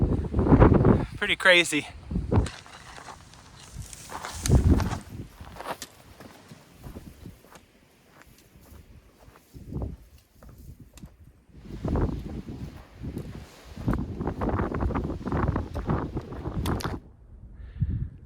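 Strong gusts of wind in a canyon in the Guadalupe Mountains buffet the microphone in loud, irregular bursts, with a hiker speaking briefly and footsteps crunching on the trail between them.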